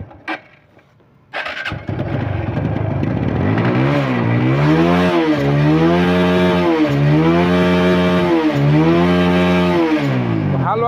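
A 2016-model TVS Apache RTR 150cc motorcycle at a bike centre starts with a self-starter after a brief quiet moment, then idles and revs repeatedly in rising and falling surges, loud and close.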